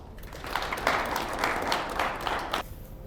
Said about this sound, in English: And give a round of applause for him.